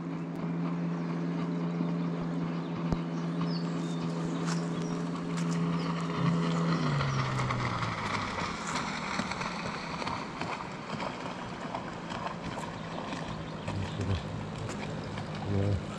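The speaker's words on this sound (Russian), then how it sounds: "Друзья, звук мотора" A wooden boat's outboard motor drones steadily on a river float trip on the Tom River between Kazyr and Teba, a fairly close engine hum that shifts pitch midway as the boat passes, with water and ambient noise around it.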